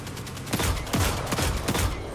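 Rapid gunfire in the Destiny 2 video game on Nessus, a quick burst of several close, loud shots in an uneven rhythm with no talk.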